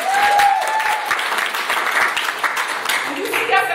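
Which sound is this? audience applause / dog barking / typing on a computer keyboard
audience applause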